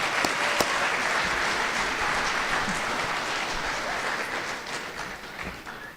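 A school assembly audience at a Hall of Fame event gives ROTC members a round of applause, a steady, full wash of clapping that holds evenly and tapers slightly at the end.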